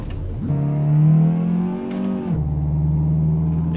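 Volkswagen Passat engine in Euro Truck Simulator 2 revving hard in second gear, a steady rising drone that climbs, then drops sharply in pitch on an upshift and carries on at lower revs, loud and close with no talk.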